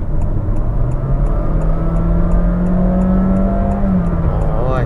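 A Honda City e:HEV RS hybrid sedan accelerates from low speed, heard from inside the cabin. A loud, steady whir and engine tone climbs smoothly in pitch over a few seconds, then eases off.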